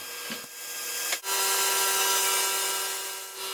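A saw cuts wooden boards for a frame on a workbench miter saw station, a close, loud whining cut that builds after a couple of brief clicks and runs steadily to the end.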